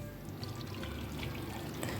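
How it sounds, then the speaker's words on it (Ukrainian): Water poured into a pot of peeled potatoes cut into quarters, a soft continuous splashing and trickling, faint and steady with no speech. "У нарізану картоплю додаємо воду"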